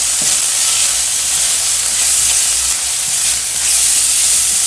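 Fresh onion and garlic frying in a pan with Haitian epis, a loud, steady close sizzle and hiss that continues without a break.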